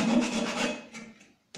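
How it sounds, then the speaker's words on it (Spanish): Countersink bit cutting a recess for a screw head into wood on a small desk divider, giving a close, steady rasping grind that fades out and then briefly resumes. "ejercer muy poca presión cuando esté haciendo la copa avellanada"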